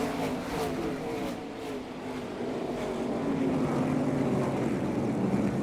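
ARCA Menards Series stock cars roar around the Milwaukee Mile after a restart, a steady dense engine drone from the pack rising slightly as the field accelerates, with faint commentary underneath.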